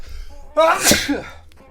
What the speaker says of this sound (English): And there's a nice sneeze for you too.